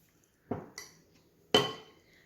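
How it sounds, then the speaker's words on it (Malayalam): A spatula mixing cake batter in a bowl gives a few sharp clinks and knocks against the side, three separate hits spaced apart with quiet between them. "ഒരു സ്പാച്ചുലോണ്ട് ഇതുപോലെ ഒന്ന് മിക്സ് ചെയ്തെടുത്താൽ മതി"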